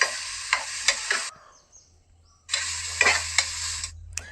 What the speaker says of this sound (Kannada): ಟೊಮೆಟೊವನ್ನು ಆ್ಯಡ್ ಮಾಡಿಕೊಂಡು ಚೆನ್ನಾಗಿ ಫ್ರೈ ಮಾಡ್ಕೊಳ್ಬೇಕು